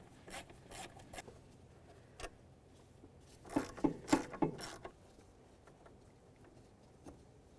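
Two 8mm bolts removed from the EGR tube of a 2009-2020 Dodge Journey 3.5L, heard as soft ratcheting and scraping metal clicks that build into a brief busier burst, faint and close with no speech.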